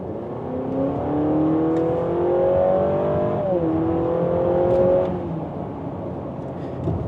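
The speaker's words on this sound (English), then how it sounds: "the car generates a bunch of fake engine sounds" A synthetic engine drone from a 2024 Honda CR-V EX-L Hybrid's sport mode, rising in pitch like acceleration, dropping briefly as if shifting gears, then climbing again before easing off, steady and fairly loud.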